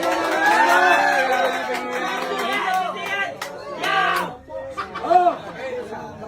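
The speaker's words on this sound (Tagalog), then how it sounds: "Grabe yung hiyawan ng mga tao sa city." A dense crowd in the city shouts and cheers as one, loud and close, with many voices overlapping in a continuous roar that swells and dips.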